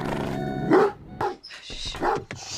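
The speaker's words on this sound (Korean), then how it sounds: "개가 짖는 소리로 인해" A dog barks in a film scene, several sharp barks spaced over a couple of seconds, close and fairly loud with some yipping between them.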